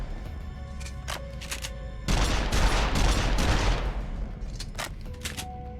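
A short, loud volley of gunfire in the video game Stranger of Paradise Final Fantasy Origin erupts mid-scene, roaring for about two seconds over a quieter game backdrop with occasional chimes before and after.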